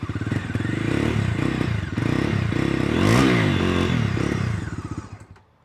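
A Bajaj motorcycle engine (Dominar 250 or Pulsar N250) revs up and down close by, loud and throaty with rising and falling pitch, peaking midway before idling down and cutting off.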